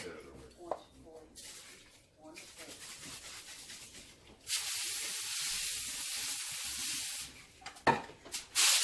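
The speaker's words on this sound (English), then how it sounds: "let me just spray it with some Pam so it won't stick" After some rustling and handling noises, an aerosol can of cooking spray sprays onto foil in a steady, sharp hiss for nearly three seconds, then a few clinks follow.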